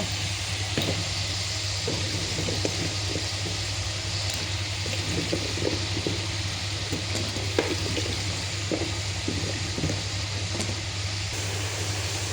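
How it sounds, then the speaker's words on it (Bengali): Pumpkin pieces sizzle in a pan of fried spices for a pumpkin and rohu fish curry, with a steady hiss of frying and repeated scraping stirs of a spoon, close and continuous. "মশলা কষানো হয়ে গেছে, এখন মিষ্টি কুমড়া দিয়ে দিব।"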